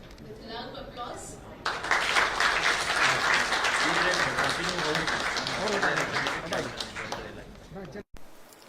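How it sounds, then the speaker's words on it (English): Loud applause from an audience at an official gathering welcomes visiting guests, steady clapping filling several seconds after a brief spoken introduction, then cutting off abruptly. "So we welcome them with a loud applause"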